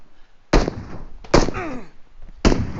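Gunfire in the mobile battle-royale game PUBG Mobile, three sharp loud shots spaced about a second apart, each with a short ringing tail, near and alone.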